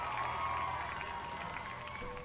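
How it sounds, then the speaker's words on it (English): Applause sound effect playing on a livestream, a faint canned burst of clapping and crowd cheer with a tonal hum beneath it, steady for a couple of seconds. "Thank you for the applause."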